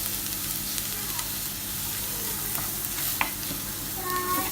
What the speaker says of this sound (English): And then I will add in those cumin seeds.